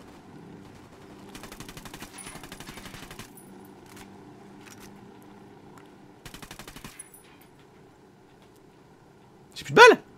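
Automatic weapon fire from the video game Ghost Recon Wildlands, with two separate rapid bursts of machine-gun shots followed by a single loud shot near the end, set against quiet game ambience.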